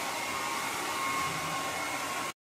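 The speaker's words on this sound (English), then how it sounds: "Let's see what it looks like when she's done drying her hair." A hair dryer runs steadily on a person's hair at close range, a loud continuous whoosh with a faint whine that holds even and then cuts off abruptly near the end.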